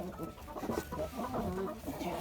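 Egg-laying hens cluck softly and repeatedly nearby, a scattered run of short, low calls against a faint background.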